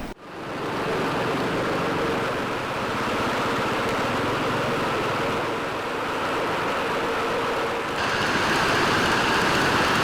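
A fast-flowing stream rushes across a water crossing on the route to Kakoshang waterfall, a loud, continuous roar of water that holds steady and grows slightly stronger toward the end.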